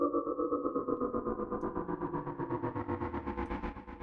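Synthesizer patch blending noise with a sine oscillator to mimic a spaceship engine: a steady, pulsing tonal drone with a rhythmic flutter, slowly sweeping downward, close and continuous.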